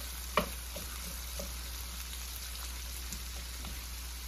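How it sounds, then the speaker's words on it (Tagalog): Onion sautéing in a pan for igado, a steady soft sizzle and crackle with a few small pops, fairly quiet and with no talking. "Hintayin natin maging translucent ang onion."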